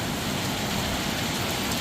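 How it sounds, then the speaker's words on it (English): Heavy rain pours down steadily on a farm, a dense, even hiss of countless drops striking surfaces, loud and close with no voices. "And it is pouring down now."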